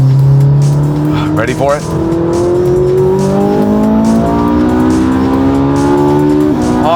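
A Ferrari 458 Italia engine revs hard up to its 9,000 RPM redline, a loud, rising wail that climbs steadily and holds high, with a brief shift mid-run; someone speaks briefly at the start.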